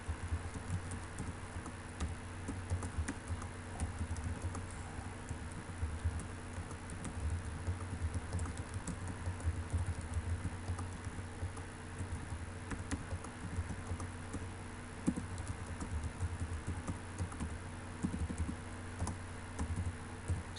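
Fingers typing on a computer keyboard, a long continuous patter of fast, light clicks close by, with no voices.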